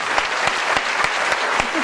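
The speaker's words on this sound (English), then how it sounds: "Give them a round of applause." Studio audience applause on a game show, loud dense clapping sustained across the short stretch with rhythmic accents, close and alone.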